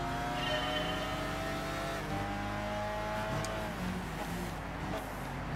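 Race car engines roar continuously around Mount Panorama in Gran Turismo 6, a steady loud drone with shifting pitch as gears change and cars follow an NSX, with faint tire noise beneath.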